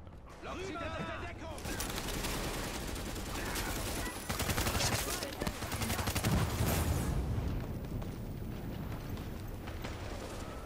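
Dense, continuous gunfire and explosions in a Tom Clancy's The Division firefight, loud and near, with bursts overlapping and building in intensity.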